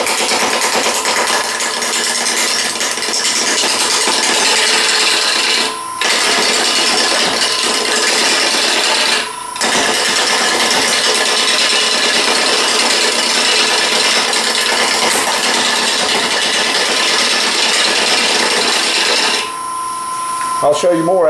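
Wood lathe turning an irregular bottle stopper blank held in a chuck, a loud continuous scraping hiss of the tool cutting, broken twice by short pauses and stopping near the end.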